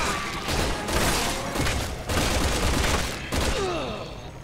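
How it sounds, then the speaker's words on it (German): Gunfire from the Resident Evil 6 Chris campaign during a rooftop fight in China, loud repeated volleys of shots in several dense bursts with short gaps between them. "Die schießen noch."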